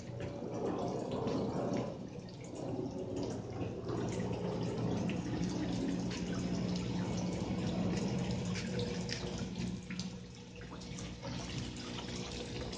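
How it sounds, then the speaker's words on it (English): Steady, continuous splashing and trickling water from a small solar-powered fountain running nearby, with a constant low murmur throughout. "And this is my solar water fountain."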